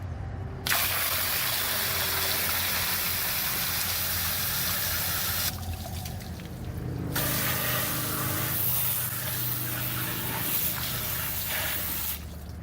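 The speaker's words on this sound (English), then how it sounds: "the bowl is shallow enough that I can spray out the old water fairly easily" Steady hiss of a hose spraying out old water from a shallow garden fountain bowl, continuous and close, with brief shifts in pressure as the stream moves around.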